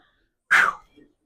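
A single short, sharp dog bark, fairly close, with a faint trailing sound afterward and quiet around it.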